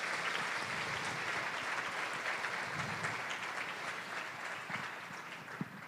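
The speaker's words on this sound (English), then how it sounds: "Can we give it a high five, big wave, round of applause to the facilitators of those afternoon sessions" Attendees at the MAISA Summer Institute applaud the facilitators of the day's sessions, a soft, distant wash of steady clapping in a large room.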